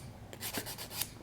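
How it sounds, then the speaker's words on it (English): Soft, close scratchy strokes of a coarse 100 to 180 grit washable nail file buffing a fingernail, several quick rubs over about a second, faint and alone. "all I'm going to do is buff, basically, or file"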